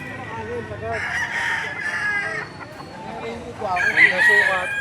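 Roosters crow repeatedly, one close and loud near the end, with other birds clucking amid background murmur.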